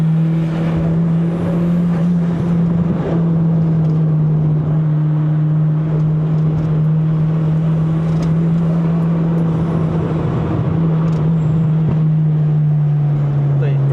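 A turbocharged Toyota Corolla AE100 with a 4AGE 20V engine holds a loud, steady drone from inside the car on a mountain road, with a strong low tone and someone talking over it.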